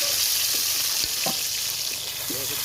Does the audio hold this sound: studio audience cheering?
no